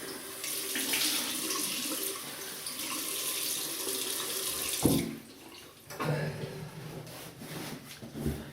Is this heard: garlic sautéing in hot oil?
no